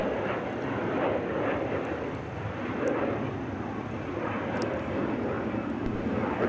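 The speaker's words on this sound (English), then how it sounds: "Rotating off the south parallel runway, headed back to Reykjavik" An airliner lifts off the south parallel runway at Minneapolis–Saint Paul airport bound for Reykjavik, a low, fairly faint rumbling roar that holds steady at a distance.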